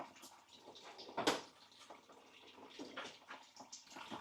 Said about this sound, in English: let her leak out there. Right into the pan she goes.